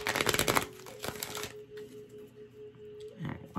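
Cards riffle rapidly in a quick shuffle, a crisp flurry of flicks, followed by quieter handling and a soft tap.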